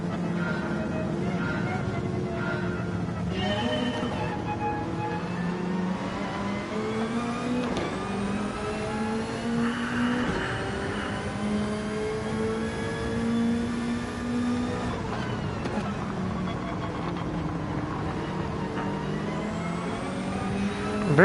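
A GT3 race car engine in Gran Turismo 7 cruising a pace lap at Bathurst, a steady mid-pitched drone whose revs climb and drop through repeated gear changes, continuous and fairly close throughout.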